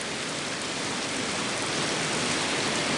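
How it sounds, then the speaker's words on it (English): Steady rain in a Japanese coastal village makes a dense, even hiss of falling water that holds constant and moderately loud throughout, with no voices. "今日はもう雨やから中止。"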